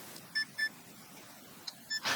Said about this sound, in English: We want a beep on one side and not the other.